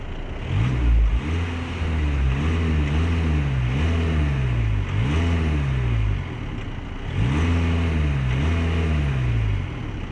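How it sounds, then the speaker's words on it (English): A 2-litre diesel engine in an Audi A4 revved repeatedly at the exhaust, several rising and falling rev sweeps in a loose rhythm over a gruff idle, loud and close with no voices. "I'm just as curious as you to hear how this 2-litre diesel sounds at the exhaust"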